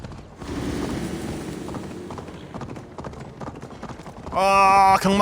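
Horse hooves clip-clop steadily while riding in Assassin's Creed Valhalla, a continuous rhythmic clatter under game music and ambience, with a louder voiced burst at the end.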